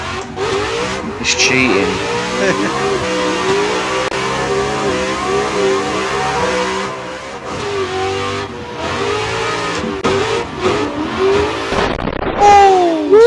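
Loud, continuous car engine revving in the racing game Assetto Corsa, a Gravy Garage V2 car driven at Meihan, with rising and falling revs and a late high-pitched sweep, while people talk over it.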